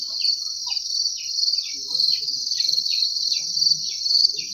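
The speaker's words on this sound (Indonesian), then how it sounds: "jangkrik jantan ini dia punya suara nyaring daripada yang betina tadi" A male cricket chirps loudly and continuously up close, a steady, shrill pulsing trill with a rapid, regular rhythm and only faint background rustles beneath it.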